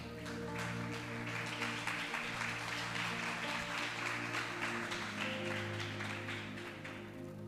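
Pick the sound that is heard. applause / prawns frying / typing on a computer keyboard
applause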